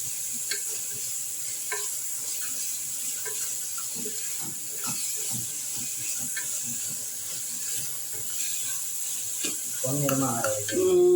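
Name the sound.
onions frying in groundnut oil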